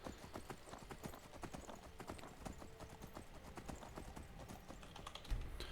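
Horse hooves clip-clop steadily as a mount is ridden up a mountain in The Elder Scrolls V: Skyrim, a dense rapid rhythm of muffled thuds with a faint whinny, continuous and fairly quiet, with no talk.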